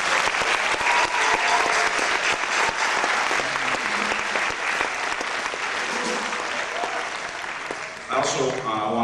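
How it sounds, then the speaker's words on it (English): Sustained, dense applause from a large crowd at a high school band concert, steady and loud throughout, tapering slightly near the end as a voice begins to speak. "give them another round of applause"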